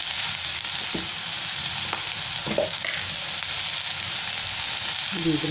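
Steady sizzle of vegetables with salt and turmeric frying in a pan, broken by a few spoon scrapes and taps, heard close and unbroken.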